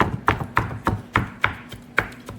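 A knife chops shrimp on a cutting board, working them toward a puree, in seven sharp, evenly spaced thuds. Each stroke rings briefly and sits close and fairly loud, with no talking.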